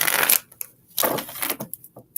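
Tarot cards being shuffled by hand in bursts of riffling and sliding, with a long rustle, a pause, then shorter shuffles and taps, close and moderately loud with no voices.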